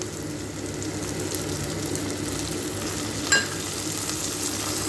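Raw prawns sautéing with coconut, onion and green chilli in a pan, a dense steady sizzle close by, with one brief clatter partway through and no voice.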